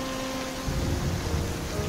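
Steady, hissing video game rainfall in a Gotham City noir setting, with a constant low rumble, continuous and fairly loud throughout, with a faint sustained tone underneath.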